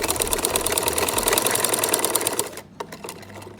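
A sewing machine stitches a kurta in a steady, close, even whir for most of the moment, then stops abruptly, leaving faint handling sounds.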